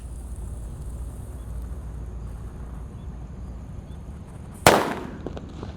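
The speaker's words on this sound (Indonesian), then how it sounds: "Di sini ada colorful thunder. Kita lihat ya yang warna oranye ini guys. Sudah menyala." A colorful thunder firecracker with orange effect goes off at an Eid al-Adha celebration: one sharp, loud bang near the end, after a long stretch of steady outdoor background noise, with a brief crackling tail.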